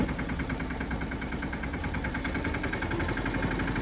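A tractor engine runs steadily in a farm field, its low, rumbling drone loud, close and unbroken throughout with no voices.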